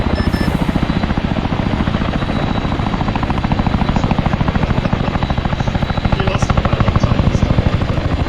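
A military helicopter lands on a helipad in the ArmA 3 combat game, giving a loud, steady rotor chop with a fast, even thumping rhythm that runs close and unbroken throughout.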